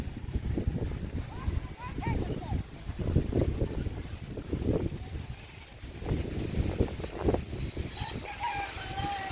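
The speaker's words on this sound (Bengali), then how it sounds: "অনেক জোরে বাতাস ছাড়ছে।" Strong gusty wind blows through a village ahead of an approaching rainstorm, roaring in broad low surges with someone talking over it.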